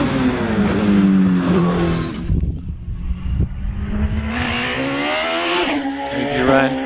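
A Gould GR55B hillclimb race car with a rear-mounted 3.5-litre Nicholson McLaren V8 climbs the hill, its engine loud and close with rising revs and a shifting pitch, while a commentator talks over it.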